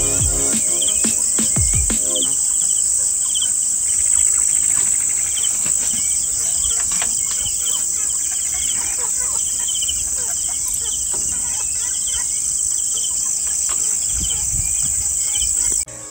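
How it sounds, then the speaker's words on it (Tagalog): Dense, steady insect chirring dominates throughout, with a few faint bird calls scattered in the background of an outdoor evening scene. "para marinig nyo dito mga iba't ibang boses ng mga ibon"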